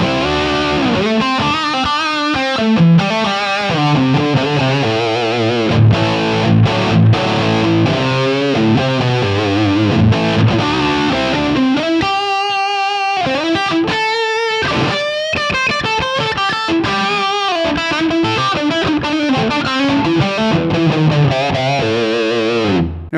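Heavily distorted electric guitar through Line 6 Helix firmware 3.5 stock cabs, a sustained riff of chugging chords and runs with brief pauses, loud and close, no talk.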